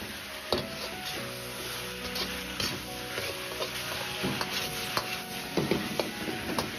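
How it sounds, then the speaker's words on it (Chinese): Drained potatoes tossed with chicken in a hot wok, a steady sizzle under repeated scraping and clacking stir strokes at an uneven rhythm, close and fairly quiet with no talking. "接着倒入控干水分的土豆翻炒几下"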